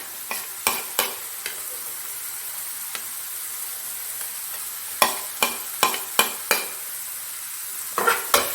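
Green chili and ginger fry in a pan for egg bhurji, an even sizzle underneath sharp, repeated spatula taps and scrapes that come in quick bunches, close and clear.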